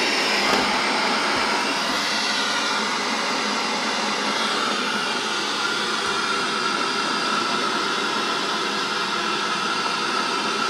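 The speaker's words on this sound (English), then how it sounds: "you can see that the handle is spinning and generating a small amount of electricity just to work the radio" A hand-crank generator spins steadily to power a transparent, batteryless radio, producing a loud, continuous whirring hiss that holds unchanged throughout with no voices.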